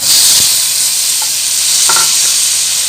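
Tomatoes, green chillies, turmeric and black pepper are stirred in a frying pan, with a loud steady sizzle and a few spoon scrapes and knocks over it.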